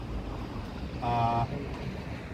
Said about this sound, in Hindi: ये भागीरथी नदी उछलती कूदती आती है